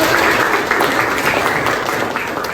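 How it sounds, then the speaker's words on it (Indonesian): Students in a classroom clap together in a steady, loud burst of applause that lasts a couple of seconds and fills the room. "Kita beri tepuk tangan dulu."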